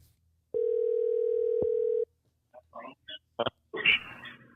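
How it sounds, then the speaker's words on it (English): A telephone dial tone while placing a phone call: a steady, loud, unbroken tone for about a second and a half, followed after a pause by short clicks and bursts of handset noise. "I'm gonna try to make the phone call."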